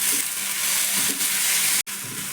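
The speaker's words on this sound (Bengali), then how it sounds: "খুব ভালো করে লবণ হলুদ সবজির সঙ্গে মিশিয়ে নেব" Potato and capsicum with salt and turmeric being stirred in a hot pan, giving a loud continuous sizzle and close scraping, with a short break near the end.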